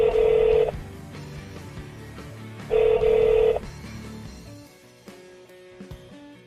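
A car's hands-free Bluetooth phone system with navigation places a call, giving two loud electronic ringback tones spaced a couple of seconds apart, followed by quieter faint tones.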